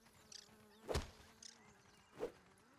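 A fly buzzes inside the video game Grounded, its faint, quiet drone passing in a few short swells with two stronger bursts, alone and without talk.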